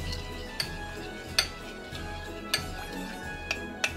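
Seasoning mixed into fish in a bowl, heard as light scattered clinks and ticks of a utensil against the bowl, five or six sharp taps spread over a soft, steady room background.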